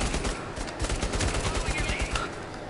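Rapid gunfire crackles through Bravo Team, a PSVR shooter, in a dense, continuous burst of overlapping shots across the whole moment, loud and close, with a faint voice briefly beneath it.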